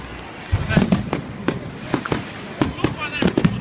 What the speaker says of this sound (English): It's only fireworks.